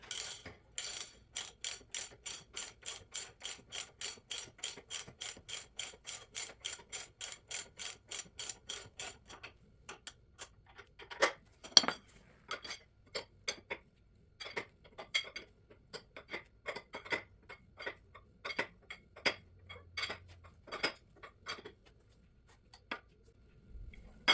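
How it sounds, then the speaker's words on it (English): A wrench ratchets a nut onto an LS engine accessory drive, a fast steady run of close clicking for about ten seconds, then slower irregular clicks and clanks of metal work. "we'll walk it on the rest of the way with the wrench."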